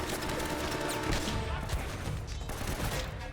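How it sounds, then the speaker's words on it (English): A grenade launcher fires amid a dense, loud barrage of gunfire and crashing impacts in the Uncharted: Drake's Fortune video game, a steady chaotic battle din with no speech. "Grenade launcher."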